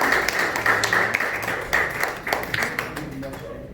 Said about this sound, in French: Nous allons permettre à Dr. Gracien de regagner sa place aux applaudissements